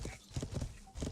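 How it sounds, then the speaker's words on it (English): Horse in a video game, a quick burst of hoof clip-clops with a brief whinny, quiet and close, lasting barely a second. "There's a horse here. Does not look friendly. It's riding back and forth, just being all cray-cray."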